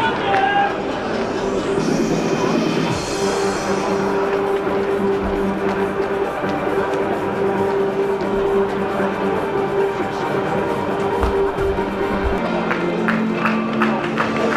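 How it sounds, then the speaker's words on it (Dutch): Supporters of Rijnsburgse Boys and Excelsior Maassluis applaud at a football match, a dense, steady wash of clapping and crowd noise that carries on without a break, with a faint tonal hum underneath. "De applaus is van Excelsior Maassluis en Rijnsburg"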